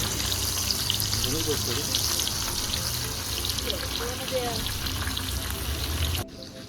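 Pieces of freshly caught fantoos fish frying in hot oil with garlic, giving a loud, dense, continuous sizzle with faint voices in the background before it cuts off abruptly near the end.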